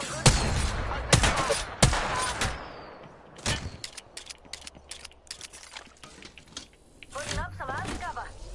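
Gunfire in a PS4 online shooter game: loud bursts of shots crowd the opening seconds, then scattered single cracks and short volleys follow at a distance while a player talks over the action.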